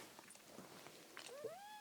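A small cat gives a single rising, drawn-out meow near the end, faint against quiet indoor room noise with soft movement sounds before it.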